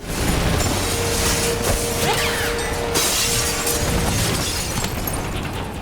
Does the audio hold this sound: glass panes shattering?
yes